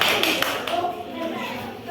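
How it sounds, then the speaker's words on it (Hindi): Children in a classroom audience clap together in a brief burst of applause, with an adult voice talking over it. "सब लोग ताली बजाइए इनके लिए"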